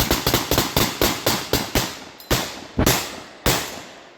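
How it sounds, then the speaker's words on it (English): An M1 Carbine rifle fires blanks in a rapid string of about a dozen sharp, loud reports, evenly spaced at first, then slowing to a few spaced shots at the end. "this thing could fire really fast if you wanted it to"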